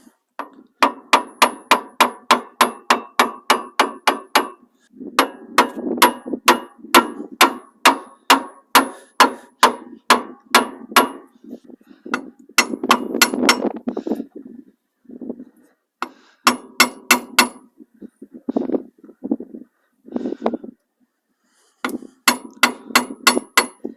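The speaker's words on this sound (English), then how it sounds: "So just going to gently tap around the outside." Hammer tapping around axle washers on a 1975 Ford F600 to loosen them, a long run of sharp metallic strikes in quick bursts with short pauses, close and loud.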